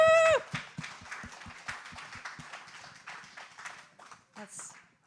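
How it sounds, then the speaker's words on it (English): A church congregation at a Sunday service gives a short round of applause. Individual claps sound near and distinct at first, then thin out into scattered clapping. "can we just have a round of applause for Jim?"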